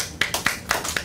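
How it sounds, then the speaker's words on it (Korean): A handful of separate claps, loud and close over a faint background, with about four distinct hits in a second, from a meeting audience showing thanks at a Korean church co-chairs' gathering. "수고하신 분들에게 참으로 감사와 격려의 박수를 같이 드립시다."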